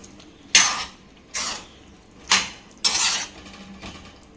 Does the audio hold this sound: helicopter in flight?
no